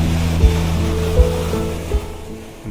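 Waves wash against the shore beside a waterfall in the coastal town of Seward, Alaska, a steady loud roar of water with low rumbling surges recurring every second or so and no voices.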